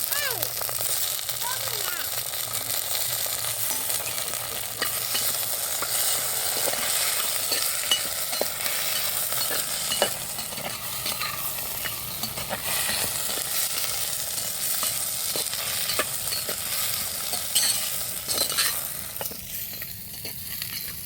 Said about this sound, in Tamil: அப்படியே எண்ணெயில் வதக்கிடலாம் கத்திரிக்காயையும்